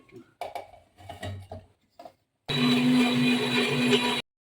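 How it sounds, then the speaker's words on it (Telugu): A mixer grinder whirs loudly and steadily for about two seconds as it blends peeled onions into a smooth paste, preceded by someone talking and some handling noises, then stops abruptly. "పెట్టుకున్న ఆనియన్స్ని మిక్సీ పట్టుకోవాలి. మెత్తగా పేస్ట్ చేసుకోవాలి."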